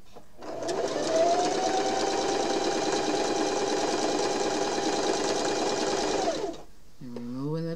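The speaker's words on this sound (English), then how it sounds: "just sew a straight quarter inch or 1/4 inch seam, adjusting your fabric as you go along" A sewing machine stitches a straight quarter-inch seam through quilt fabric, running in one loud continuous whir for several seconds before stopping, with a brief voice after it stops.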